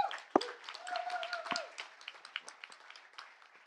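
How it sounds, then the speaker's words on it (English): An audience applauds at an evening awards event in the cannabis industry, with a burst of clapping that settles into steady, moderately loud applause. A few sharp tones and thuds sit over the clapping. "Pamela Johnson, round of applause for her."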